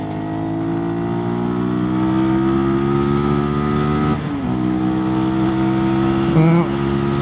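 A 2022 Sinnis SM-R 125 motorcycle engine drones loudly at close range with a steady harmonic whine that climbs gradually, dips at a gear change, then rises again, with wind noise behind.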